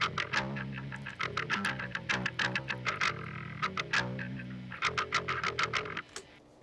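Metal bass guitar played through a TSEBOD distortion with the drive fully up and the lows cut, chugging, palm-muted riff notes in a tight rhythmic pattern, gritty and upfront, ending in a short decay.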